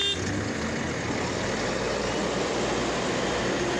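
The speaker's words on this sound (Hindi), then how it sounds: "देखिए जिस भी चक्का पूरा घूम रहा है, गाड़ी नहीं हिल रहा है।" A heavy truck loaded with stones, stuck and straining as its wheels spin in place, gives a loud, steady engine roar with broad grinding noise that continues throughout.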